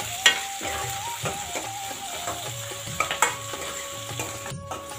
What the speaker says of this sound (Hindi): अभी ऐड कर रहे हैं इसमें प्याज और मिर्च और साथ में यहाँ का तड़का भी